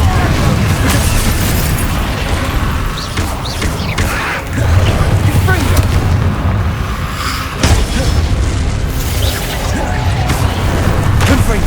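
Confringo spells in the video game Hogwarts Legacy set off loud, booming explosions and crashing bursts, layered over continuous dense game noise and spoken voices throughout.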